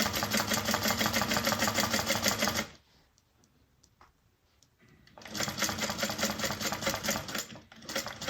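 A sewing machine stitches a bag seam with a steady, fast mechanical whir, stops for a few seconds of near silence with faint clicks, then starts up again with the same close, even hum.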